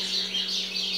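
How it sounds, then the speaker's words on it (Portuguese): Small birds chirp steadily from a nest in a backyard passion fruit vine, a continuous close, bright twittering with no talk over it. "é passarinho todo dia o barulho"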